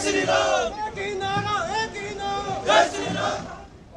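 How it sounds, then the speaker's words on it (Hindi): A large crowd at a BJP election road show in Tharali, Chamoli shouts slogans in unison, loud rhythmic chanting voices rising and falling over a few seconds. "वहीं अब की बार 400 पार के नारे रोड शो में।"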